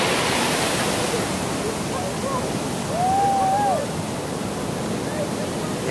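Big ocean surf at Banzai Pipeline on Oahu's North Shore, a loud, continuous roar of breaking waves filling the whole stretch with no pauses.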